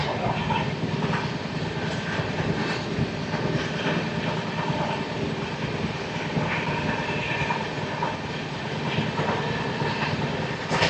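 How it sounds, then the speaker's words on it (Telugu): Andaman Express rolls past near Nidubrolu railway station, a sustained rumbling roar of wheels and carriages with rhythmic clatter and occasional squeals, steady and fairly loud throughout. "అండమాన్ ఎక్స్ప్రెస్ అది."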